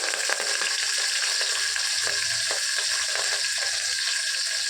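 Green chilies and curry leaves fry in hot oil, a loud, continuous crackling sizzle with a few scattered pops, close up and without talk.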